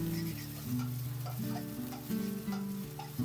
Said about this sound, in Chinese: 等鸡蛋液定型，再给它打散